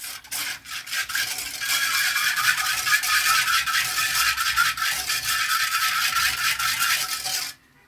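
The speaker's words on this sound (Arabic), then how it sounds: "هنقلبهم كويس" A spoon stirs caramel cream powder mix into two glasses of milk, a continuous close scraping and rattling against the glass that stops abruptly near the end.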